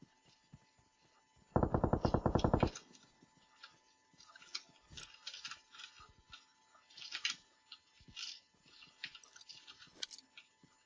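A rapid burst of automatic gunfire from the mobile game PUBG Mobile rattles loudly for about a second, followed by scattered faint clicks and small in-game sounds.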